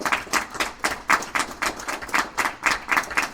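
Crowd at a Rassemblement National political rally in Belfort applauding a candidate, steady rhythmic clapping filling the space with no talk over it.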